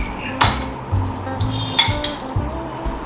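Sour yogurt being whisked with a spoon in a bowl for a malai paneer marinade, heard as repeated clinking taps against the bowl at an irregular beat, close and fairly loud.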